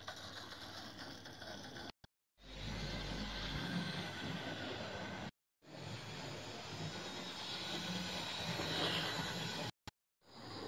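A Hornby R3359 Rothery Industries model train runs along its track with a continuous close whirring rumble, broken by a few short silences between running stretches.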